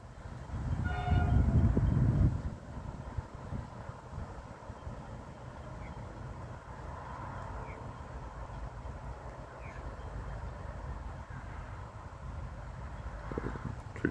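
A historic Doodlebug railmotor train pulls into Somerville station in Australia, sounding a loud horn blast at the start before its engine and wheels rumble on quietly in the background.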